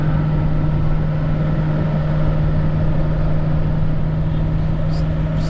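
Diesel engine of a 2021 Ford F450 Platinum towing a Diamond C FMAX 216 trailer uphill in fifth gear, a steady loud droning hum with a constant low tone, no voices.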